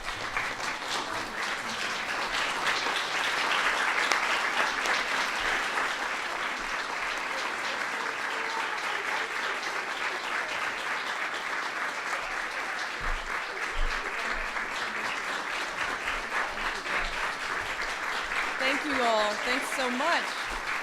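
Prolonged audience applause at the White House for First Lady Michelle Obama, a broad, even roar of many clapping hands that holds steady throughout, with voices rising through it toward the end.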